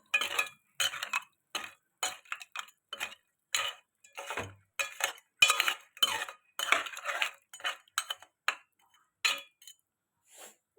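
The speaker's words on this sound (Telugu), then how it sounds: "చింతపండు పులుసు పోసి కలబెట్టుకోవాలి" Tamarind extract being stirred into a crab curry, with a spoon clinking and scraping against the pot in a steady run of short, sharp taps, close and fairly quiet, no talking.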